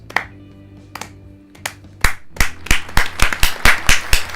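Sparse hand claps start slowly, then build into a steady run of sharp, close claps, like a small burst of applause, in the video game Dream Daddy: A Dad Dating Simulator.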